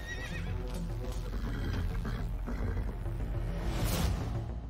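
Horse neighing with clip-clopping hooves, played as a sound effect in a segment about horses receiving electric shocks through their horseshoes near a famous inventor's experiments; a continuous, fairly loud whinny with layered hoof sounds, no speech.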